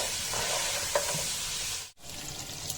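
Mutton trotters and bones fry in a pot with a dense, continuous sizzle and occasional stirring, broken by a brief dip near the end before the frying resumes.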